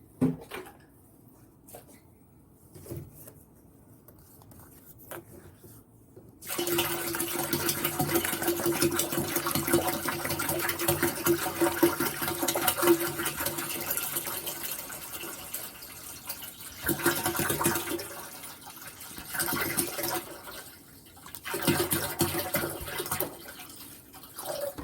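Water pours steadily into a tower garden reservoir, a continuous rushing flow that starts abruptly after a quieter stretch of faint drips and handling, then briefly dips and resumes.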